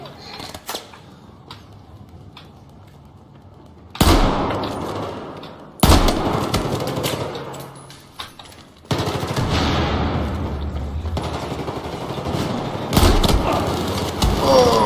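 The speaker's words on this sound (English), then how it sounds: "Oh, shotgun." Shotgun fire in a video game during a clan night. Several loud, sharp blasts go off at uneven intervals, each with a long, fading tail, separated by quieter stretches with some faint background noise.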